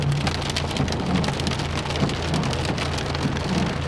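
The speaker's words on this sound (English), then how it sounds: "And you don't see this very often. Hail." Hail pours down during a March 2012 hailstorm in Oswestry, a loud, dense, unbroken clatter of countless small impacts, heard alone without any voices.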